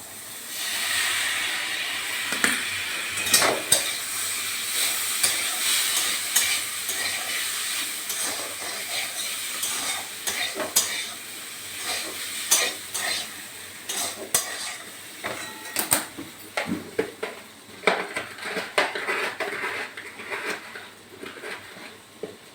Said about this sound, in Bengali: সেদ্ধ হয়ে গেছে এখন আমি সাবুটা দিয়ে দিচ্ছি